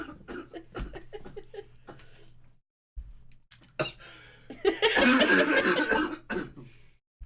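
A person coughs in several bursts, with a quiet pause and then a loud, dense fit of coughing near the microphone, while other people talk around it.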